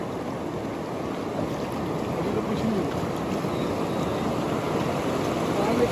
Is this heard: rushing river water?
yes